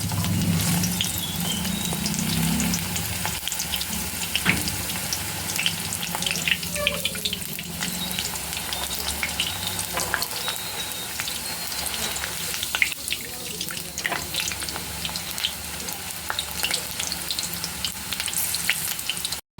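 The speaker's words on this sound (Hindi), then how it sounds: "प्रथमे गाजर को हल्का फ्राई कर नेबे।" Carrots fry lightly in a pan with a dense, hissing sizzle that runs throughout, broken now and then by soft stirs and clatter. The sound is close and fairly loud with no talking.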